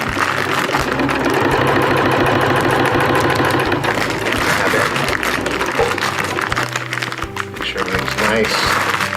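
A sewing machine running steadily as it stitches around a Dyneema stuff sack, a loud continuous rapid mechanical whir close by, with talking over it.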